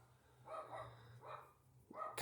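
A dog barks a few times in the distance during a 5VZ-FE engine belt replacement, soft muffled woofs spaced apart, ending with a louder, closer bark.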